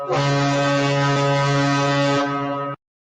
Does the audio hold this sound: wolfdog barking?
no